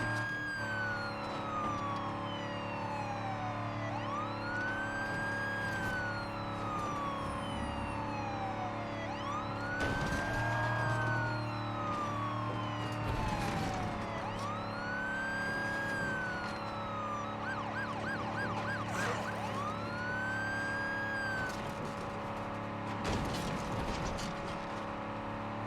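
A police car siren in the video game State of Decay 2 wails in long rising and falling sweeps over a steady, low engine drone, loud and continuous throughout, with a brief faster warble near the end.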